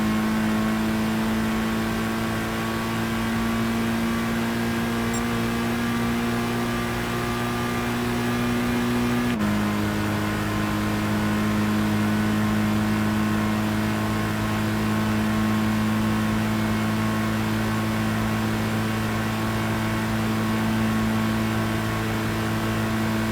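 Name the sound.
racing car engine at full throttle in Gran Turismo 5 video game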